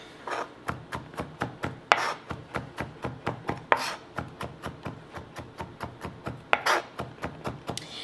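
Rapid, even chopping of a knife mincing garlic on a cutting board, dozens of close, crisp taps in a steady rhythm, with occasional scraping sweeps as the blade gathers the pieces.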